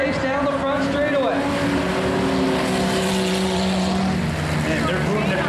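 Stock cars on the front straightaway of Humberstone Speedway during a car-on-car race at the Eve of Destruction 2012 event, engines roaring loud and steady throughout with rising and falling whines as the pack passes.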